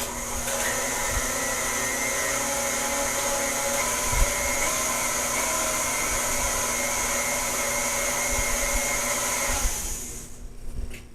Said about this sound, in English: I'm going to mix that around for just a few more seconds just to make sure that everything got off of the bottom and the sides of the bowl